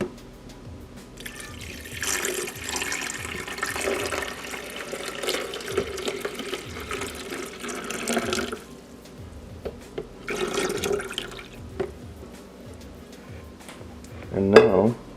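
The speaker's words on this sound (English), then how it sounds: "open up the top of this coffee pot, pour in the water" Water poured into the top of a coffee maker for iced coffee, a steady splashing stream for about eight seconds, pausing, then a brief second pour and a sharper clatter near the end, with no talking.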